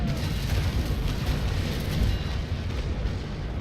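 A ship's cannon broadside in Naval Action during a fleet battle stern rake, a continuous roaring mass of heavy booms rumbling loudly and evenly without a break.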